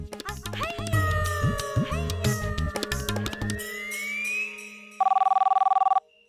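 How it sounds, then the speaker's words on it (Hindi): A telephone rings with a steady electronic trill near the end, after a busy stretch of tonal music. "कम्मो को फोन करके पूछती हूँ"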